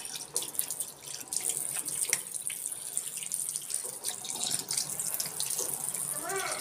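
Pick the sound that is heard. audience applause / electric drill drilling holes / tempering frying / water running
water running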